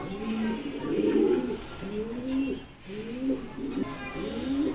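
Young racing pigeon chicks coo close by in repeated low, rolling phrases, one after another, with soft background noise.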